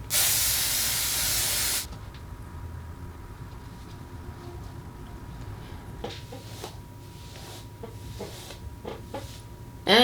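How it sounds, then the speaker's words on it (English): Hairspray hisses onto a ponytail styled with hair bundles in one loud, steady burst of about two seconds. Quiet room sounds and a few faint clicks and knocks follow. "we're going to do the whole hairspray thing again."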